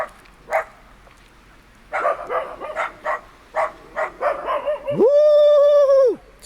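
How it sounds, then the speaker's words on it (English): Dachshunds bark outdoors in the snow during a 2014 snowstorm, giving several sharp yappy barks in uneven bursts, ending in a long drawn-out howl-like whine up close. "You make the dogs over there bark."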